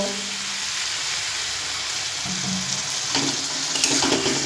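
Chicken fries in a pan with a steady sizzle, and a small splash of water goes in, bringing a brief burst of louder hissing and a couple of clinks near the end.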